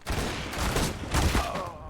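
Gunfire in the video game Counter-Strike: Global Offensive, a rapid burst of shots in quick succession, fairly faint and muffled in the game mix.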